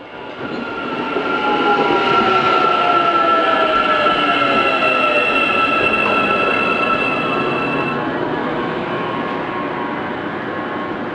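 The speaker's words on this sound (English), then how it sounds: "Here's 5177 arriving at and departing from Woburn on a service to Upper Hutt" A Matangi electric multiple unit on an Upper Hutt service rolls into Woburn station and pulls away again, a loud sustained rumble with whining motor tones and wheel squeal that stays steady throughout, no voices.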